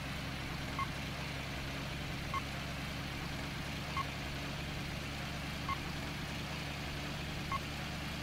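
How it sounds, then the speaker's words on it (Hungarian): A truck in the Hard Truck driving game reverses, its backup alarm giving five evenly spaced faint beeps over a low steady engine drone. "Tehát most az így visszafele csipogott"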